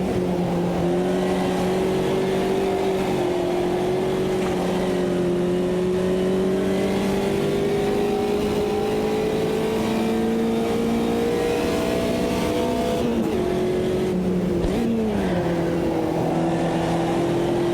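A Puma race car in the Automobilista 2 racing game on a short Brazilian track, its engine holding a sustained loud drone that slowly rises in pitch, then dips and shifts as it slides through a turn.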